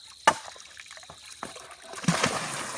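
Water trickling and dribbling down an eroding, crumbling slope during tropical rain in a rainforest, with soft wet patters, a few sharper splashes and a steady faint wash of runoff, no talk.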